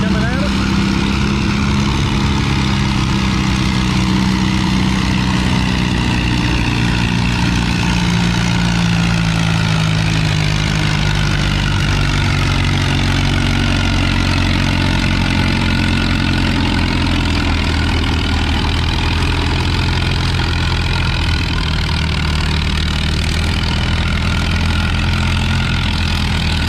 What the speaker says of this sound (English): We got an Alice WD coming at us.